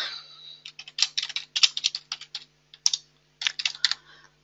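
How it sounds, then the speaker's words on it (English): Rapid bursts of clicking keystrokes on a computer keyboard, typed in uneven clusters with short pauses between words, close and clear with no voices. "So I'm just going to type that in there."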